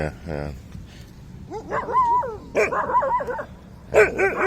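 Desert dogs bark and yip in several excited bursts at feeding time, with whiny, pitched barks overlapping close by and a low voice briefly underneath.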